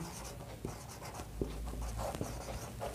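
Pen or chalk writing out steps of a quadratic equation, sounding as soft, irregular scratches and taps, fairly quiet and alone.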